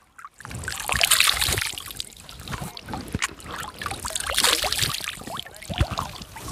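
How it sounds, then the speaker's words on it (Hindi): Water scooped in both hands and splashed over the face during wudu ablution: a steady, close sloshing and trickling that swells and eases in waves, with no talking. "इसके बाद ये दोनों हाथों में पानी लेकर अपने चेहरे को आराम से धोएं।"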